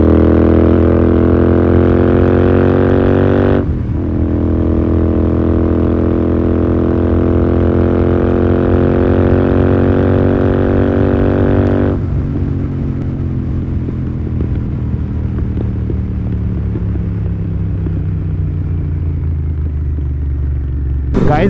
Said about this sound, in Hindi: तो प्योर एग्जॉस्ट साउंड के एंजॉय करो भाई थोड़ी देर के लिए